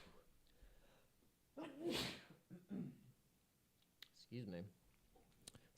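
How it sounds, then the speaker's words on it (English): A single sharp sneeze bursts out near the microphone during an indoor desk session, followed by short voiced noises and faint clicks in an otherwise quiet room. "I probably turned my sneeze up louder"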